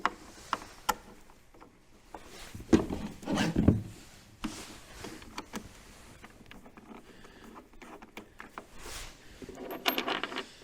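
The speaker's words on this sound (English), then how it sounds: "Now we take our bolts" Snowmobile cargo-box bolts for a 2023 Ski-Doo Expedition are handled, giving scattered light metallic clinks, taps and rattles at irregular intervals, close and fairly quiet, with no talk.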